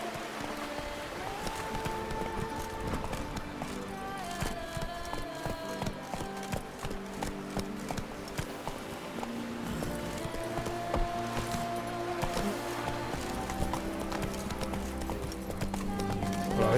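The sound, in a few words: horse galloping in video game The Witcher 3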